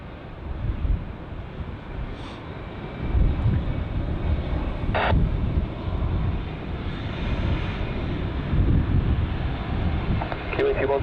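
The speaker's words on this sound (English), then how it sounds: "Delta 330 taxiing out." A Delta Airbus A330 airliner taxis at Heathrow Airport, its jet engines a broad, steady rumble and whine that swells and holds. Wind buffets the microphone and a voice speaks over it.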